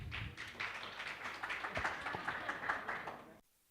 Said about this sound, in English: A big round of applause for the runners-up.